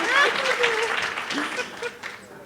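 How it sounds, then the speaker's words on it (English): Audience applause welcomes a panel of speakers onto the stage at a women in transport summit, a steady wash of clapping with a voice talking over it. "Can we please welcome them with a round of applause?"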